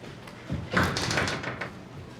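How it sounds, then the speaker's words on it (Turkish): An indoor door is pushed shut with one firm thud, followed by a short rattling, room-filled settling noise at moderate loudness. "kapat kapıyı"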